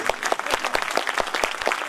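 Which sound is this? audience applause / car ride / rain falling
audience applause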